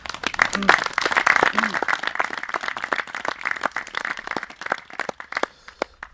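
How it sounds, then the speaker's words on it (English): A group at a carp fishing match gathering gives a round of applause, with lively, uneven clapping near the listener that tapers off into a few scattered claps, and voices mixed in. "So a round of applause to them."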